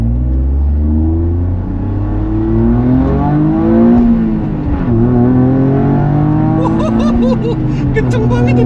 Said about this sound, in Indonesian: Kenceng banget ini mobil.